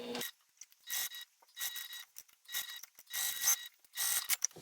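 A sewing machine top stitches fabric for a seashell saddle bag, sewing 1/8 inch from the edge on the wrong side, running in about five short mechanical bursts separated by brief pauses, close and alone.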